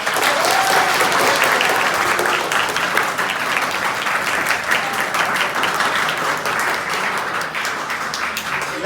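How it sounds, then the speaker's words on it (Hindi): A roomful of children clap together after a road-safety class, a loud, sustained burst of dense applause that carries on for several seconds and eases slightly toward the end. "तो ताली बजाओ"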